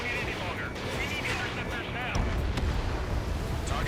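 Missile strikes and explosions in the Ace Combat 7 flight game sound as dense, booming blasts over steady jet roar, growing heavier in the second half, with game voices talking over them.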